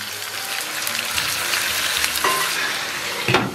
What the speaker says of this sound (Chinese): 油热后啊，咱们把五花肉给它下里边，然后给它反复煸炒一下。